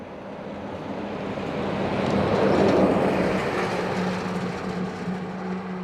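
An American Airlines Boeing 777 arrives from Dallas at Dublin Airport, its broad engine roar swelling to a peak midway and then slowly easing off, with no voices.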